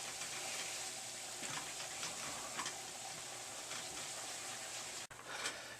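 Flour being stirred into a roux in a pan, a quiet steady sizzle with soft scraping strokes of a utensil throughout, faint and continuous.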